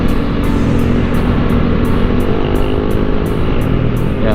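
A Kymco Exciting 400 scooter on the SLEX highway makes a steady, loud broadband engine and road roar that holds for the whole stretch, with no voices.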